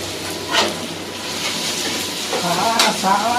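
Dried red chillies frying in oil in a pan for Guntur chicken, with a steady close sizzle and hiss and a few louder stirring scrapes.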